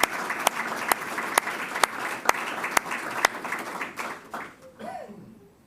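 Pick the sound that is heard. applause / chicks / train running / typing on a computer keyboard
applause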